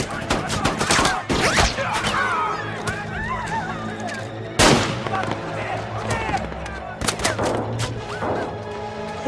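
Sniper gunfire in a war drama scene, with several sharp, loud shots cracking out at irregular intervals amid chaotic crowd noise, shouting voices and dramatic background sound.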